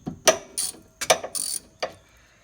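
A ratchet wrench breaking loose a bolt on the front brakes of a 2007 Honda Element SC, giving a few sharp, close metallic clicking bursts alone without talk.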